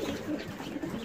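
A pigeon coos steadily at close range, a low soft rolling call repeated without pause.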